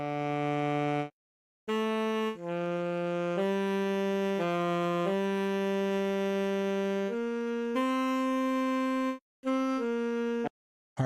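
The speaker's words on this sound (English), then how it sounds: "It only has a few different controls, but this saxophone sounds like this." Saxophia saxophone plugin plays a dry, reedy melodic line of sustained notes with short gaps between phrases, close and steady in volume, with no voices.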